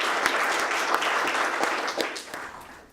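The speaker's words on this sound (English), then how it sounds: "let's give Jayant a round of applause for bringing morality back to the discussion" Audience applause at a talk on Stoicism, dense steady clapping from a crowd filling the room, loud and continuous before tapering slightly at the end.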